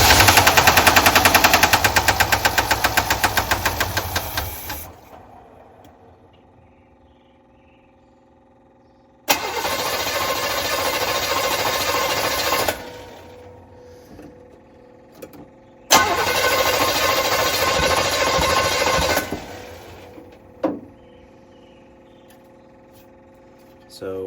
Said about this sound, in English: we clearly have some sort of knocking noise happening internally